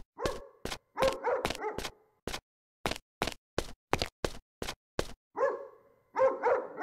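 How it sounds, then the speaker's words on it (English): Angry dog barking in the Dark Years video game, a long run of sharp, loud barks in quick bursts and irregular rhythm, some with a growling edge, close and clear with no talk. "With that angry dog there, it's not safe to go out."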